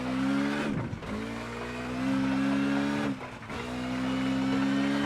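A 220–230 horsepower rally car in WRC 10 drones at high revs on the Arganil stage in fog, with a loud, steady engine tone broken by two quick gear-shift dips.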